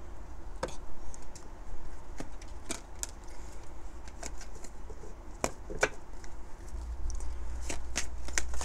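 Tarot cards being shuffled by hand up close, with irregular crisp slaps and riffling clicks scattered over a soft papery rustle and a low background hum, no talking.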